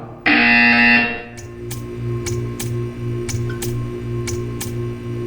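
A loud buzzer sounds in a single harsh blast for about a second, then stops, leaving a steady low hum with a regular ticking pulse beneath.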